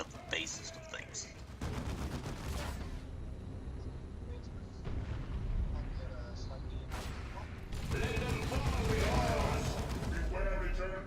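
Heavy gunfire and explosive bursts from the Space Marine video game, dense and continuous across the clip with loud volleys swelling near the end, and a voice talks over the battle.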